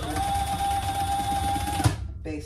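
A sewing machine runs steadily while basting a fabric tab onto a pouch, a close, even mechanical whir for about two seconds that then stops abruptly, followed by a brief quiet handling sound.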